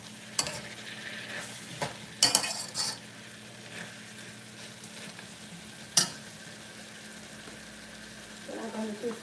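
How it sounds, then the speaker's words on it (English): Rice frying in a pan and being stirred with a utensil: a steady low sizzle under sharp scraping and clinking strokes from the stirring, close and moderately loud, with a faint rustle near the end. "We're going to leave this little fry like about 2 minutes again."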